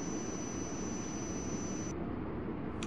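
Steady, loud jet engine roar of an airliner in the Tower! 2011 air traffic control game, a continuous broadband rumble with a high whine that cuts out near the end, no voices.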